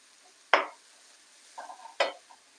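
A salmon rice mixture with fish seasoning is stirred in a pan: two sharp scraping strokes and a softer shuffle between them, close and fairly quiet, without talk.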